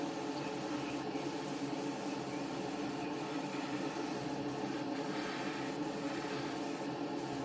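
Steady airbrush hiss as grey acrylic paint is sprayed onto the underside of a 1/72 scale Super Etendard model jet, a continuous soft spray with a few brief pauses.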